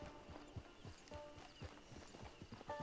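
Horse hooves clip-clopping in the Red Dead Redemption 2 video game, a steady walking rhythm of hollow clops, fairly quiet and close, with no talk over it.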